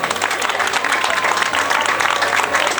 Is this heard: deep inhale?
no